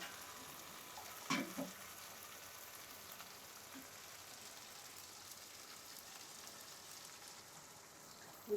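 Beef bhuna curry with tomato and yogurt sizzling and frying in the pot after hot water is poured in, a steady low crackle throughout with a brief louder splash near the start.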